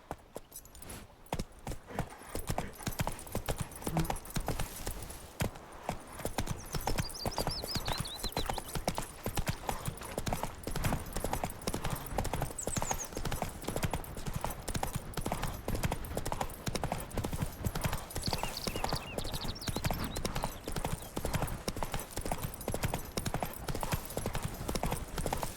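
Horse hooves gallop in The Witcher 3, a steady, loud run of clip-clop beats that continues throughout, with occasional snorts and light jangling tack over an ambient game backdrop.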